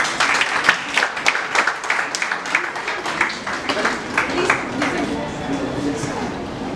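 Applause from an audience at an international school's Global Entrepreneurship Summit, a steady patter of hands with sharper claps near the start, thinning toward the end, while a voice speaks over it.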